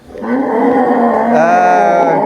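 A muscular Madura bull kept as a sacrificial animal on a farm lets out one long, loud, close moo that swells after a short start and holds steadily to the end.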